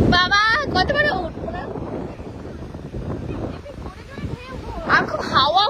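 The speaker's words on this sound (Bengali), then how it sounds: "আর খুব হাওয়া হচ্ছে, খুব বাজে হাওয়া" Strong wind gusting across the microphone on Puri beach, a constant roaring buffet with surf beneath, while people talk and shout over it.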